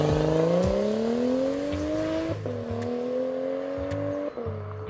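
A BMW E92 335i LCI engine revs as the car drives off, its pitch rising steadily through two gear changes and a distinct shift blip, close and loud with a whirring drone underneath.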